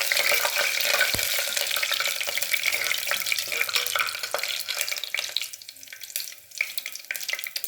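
Masala spices and oil frying in a pan for a chickpea and potato kurma, a steady crackling sizzle with scattered stirring clicks, fairly close and continuous.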